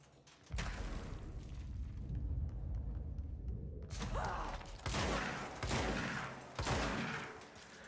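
Rockets launching and blowing up in the video game Control: loud, dense bursts of blasts and thuds, with several sharp explosive surges toward the end over a steady rumble of combat.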